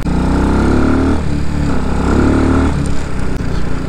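An RPS Condor 250cc motorcycle engine labours up a hill in fifth gear, a loud, steady drone close by with the pitch dipping and recovering as the throttle is held easy.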